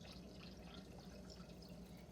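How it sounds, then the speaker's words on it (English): Chicken broth pours into a liquid measuring cup, a quiet, continuous splashing trickle close by, steady throughout and without talk. "I'm going to pour in my chicken broth."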